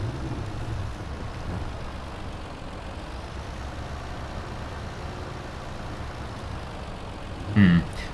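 A tractor engine in the Farming Simulator 2017 video game runs at a steady low drone throughout, with a brief louder bump near the end.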